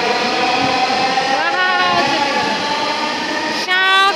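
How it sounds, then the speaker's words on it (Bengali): A metro rail train passes Agargaon station in Dhaka, loud and close, its steady rumble topped by rising whining motor tones, with a brief horn-like tone near the end. "মেট্রো রেল যাচ্ছে এখন। আমরা আগারগাঁও স্টপেজে দাঁড়িয়ে আছি।"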